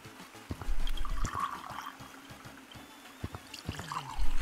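Liquid pours out in the video game Gorilla Tag, a splashing, gurgling stream with uneven spurts and trickles that comes and goes, louder near the start and end.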